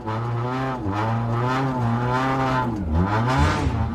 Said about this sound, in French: Éric Maltais est un autre pilote qui a complété cette spéciale numéro 6.